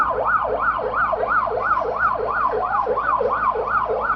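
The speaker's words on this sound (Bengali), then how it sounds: "প্রাইভেট হসপিটাল আপনারা জানেন সুনামধন্য হসপিটাল আহারামানের অ্যাম্বুলেন্সটি" An ambulance siren wails in a steady rising-and-falling cycle, loud and continuous, during an annual fire safety drill at Sylhet airport.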